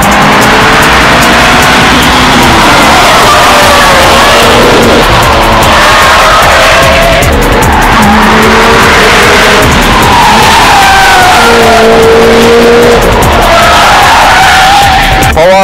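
Mitsubishi Lancer Evolution IX engine pulling hard while driving, a loud continuous in-cabin drone that rises and falls with gear changes and revs, filling the whole stretch without talk.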